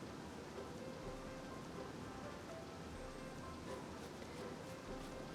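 Steady, even rain hiss from a rainstorm in the farming game Harvest Moon Animal Parade, continuous and fairly soft throughout with no voices over it.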